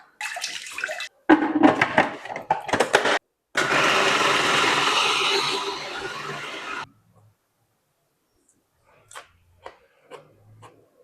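Vegetables are handled and washed at a kitchen sink. First comes close clattering and rustling, then a steady gush of tap water runs for about three seconds. After that the room goes nearly silent apart from a few faint clicks.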